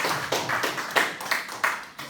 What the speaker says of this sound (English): You deserve a clap.